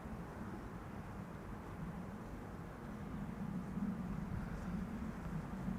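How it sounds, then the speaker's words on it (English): An easyJet Airbus A319 airliner arriving from Birmingham to land at Schiphol, a steady low jet rumble that grows slightly louder toward the end, heard from a distance with no talk. "First up is going to be this, an A319 from EasyJet"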